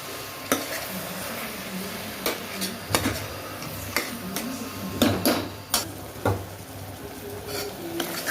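Spoon scraping and knocking against a pot as a mushroom biryani mixture is stirred, irregular clanks over a soft sizzle, fairly close and quiet, with no talking.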